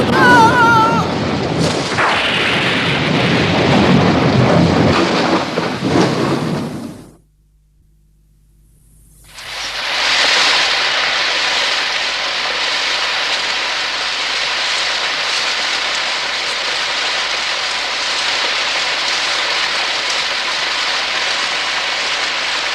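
Steady heavy rain hisses continuously, with a deep rumble of thunder and a brief near-silent gap partway through.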